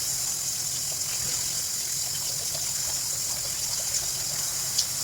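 A shower runs steadily as a continuous, even hiss of falling water, close and alone, with one tiny knock near the end.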